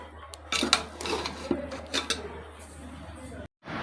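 Beef biryani being served out of the pot with metal utensils, clattering and scraping in quick clusters over a low hum, with a voice talking over it.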